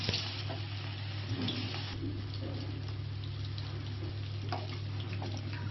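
Masala-marinated chicken 65 deep-frying in hot oil during holiday cooking, a steady soft sizzle and bubbling with occasional light clinks, heard up close with no talking.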